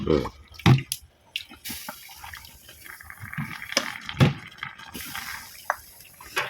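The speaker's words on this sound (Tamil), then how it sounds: "இன்னொரு டைம் தண்ணி ஊற்றணும்." Water is poured into ragi porridge cooking on a wood-fired stove, with splashing, trickling pours and scattered drips and clinks of utensils, close and intermittent.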